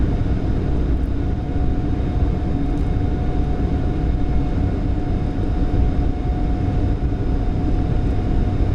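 Boeing 747-8 jet engines at takeoff thrust, heard from the cockpit as a loud, steady low roar with a faint thin whine above it, sustained without pause.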